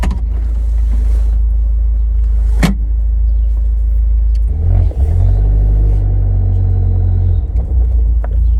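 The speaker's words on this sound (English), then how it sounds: "you should be able to hear the exhaust and the blow-off valve pretty nice with the top down" Loud, steady engine rumble of a tuned Fiat 124 Spider Abarth with the top down, a revving surge midway and brief sharp bursts of turbo exhaust pops and blow-off valve hiss, close and continuous.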